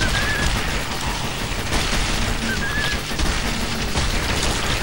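Rapid, dense gunfire from pistols in the Zombie Shooter video game, a loud continuous volley of overlapping shots and impacts running steadily for several seconds with no voices.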